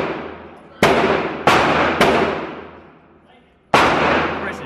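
Four sharp, loud Taurus G3C handgun shots ring out at an indoor range, each crack followed by a long booming echo that fades before the next, irregularly spaced.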